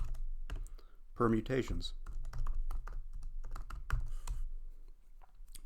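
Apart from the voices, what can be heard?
typing on a computer keyboard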